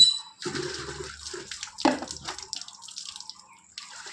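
Water runs and splashes in uneven bursts during a morning bath, heard close up, with gaps of quiet between the pours.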